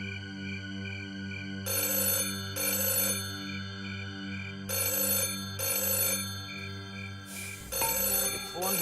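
Telephone ringtone playing in repeated bursts of electronic ringing, fairly loud and close, with faint voices and background sound underneath.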